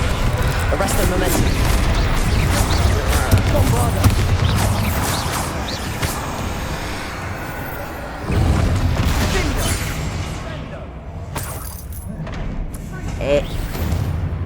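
A Confringo explosion spell in a Harry Potter video game, with heavy booming blasts and rumbling impacts that stay loud and dense, alongside a speaking voice.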